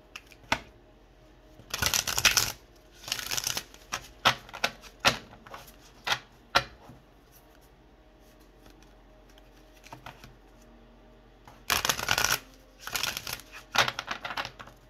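Tarot cards shuffled in several quick riffling bursts with pauses between, close and fairly soft, with no talking.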